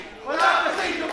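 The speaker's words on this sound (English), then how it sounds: "Fans chanting, cheering for Fabio Makisig." Wrestling fans at a Filipino Noche Buena 2022 event chant and cheer as a crowd, a short swelling roar that peaks briefly and then holds at a lower level.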